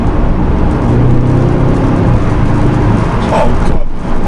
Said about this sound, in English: you can get a little bit heavy-footed and it makes this noise